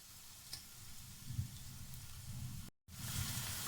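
Soft, steady sizzling of chicken frying in a pan for a curry, a quiet crackle throughout with a brief dropout near the end.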